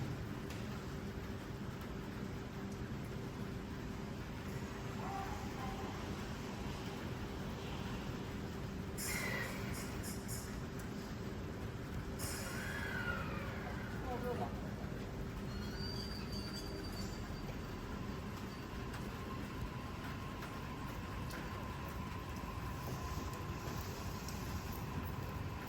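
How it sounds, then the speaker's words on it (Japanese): A Hitachi limited express train departs for Iwaki from a station platform with a steady low rumble of rolling wheels. Brief screeches and clanks ring out partway through, all fairly distant and continuous. "4番線の特急列車いわき行きが発車します。"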